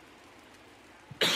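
A single sharp cough right at the end, loud and close, after a quiet stretch of faint background noise during a baseball video game.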